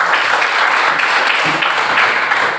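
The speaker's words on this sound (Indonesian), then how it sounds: "berikan tepuk tangan" Enthusiastic applause from a crowd, loud and continuous hand clapping that fills the whole moment without voices.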